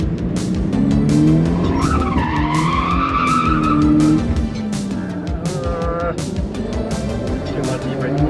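Car drifting with tires skidding, several loud drawn-out squeals rising and falling as the engine revs, with voices talking over it.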